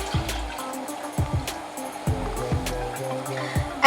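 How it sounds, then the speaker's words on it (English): Two cups of milk poured into a pot for a chum chum sweet, a steady liquid trickle and splash running throughout with a few soft knocks and clinks, close and moderately loud, no voices. "So I'm pouring 2 cups of milk here,"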